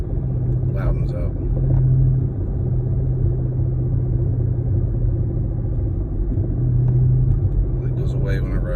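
A Dodge Charger R/T engine with a knocking fault idles and pulls at low speed, a steady close rumble swelling briefly twice as the throttle is blipped.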